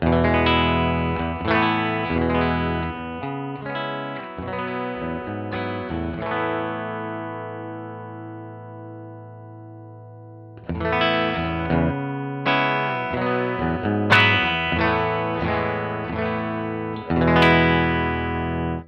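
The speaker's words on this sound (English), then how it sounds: "This is the guitar straight into the interface through the Iconoclast." Electric guitar plays chords and short riffs with a clean, smoothed tone through a Neunaber Iconoclast speaker emulator straight into an audio interface, ringing notes decaying into a silent gap before playing resumes.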